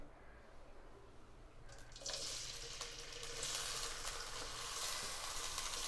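Tap water runs steadily onto bitter gourd pieces being washed, starting soft and swelling into a louder, continuous hiss of splashing water after a couple of seconds.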